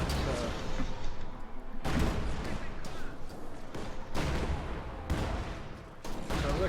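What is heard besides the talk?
anti-tank gun firing in the video game Company of Heroes 2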